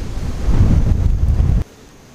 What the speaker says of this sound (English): it's pretty windy right now